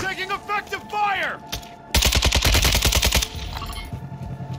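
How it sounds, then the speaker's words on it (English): Loud burst of rapid automatic gunfire in a battle royale video game, a steady stream of close shots lasting over a second, preceded and followed by player chatter and game voice lines. "Taking effective fire."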